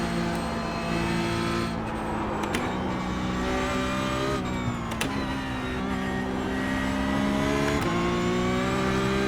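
A Porsche Cup race car in a racing video game laps the Nordschleife, its engine revving steadily with gear changes and pitch climbs and drops, a continuous loud whine with no talking.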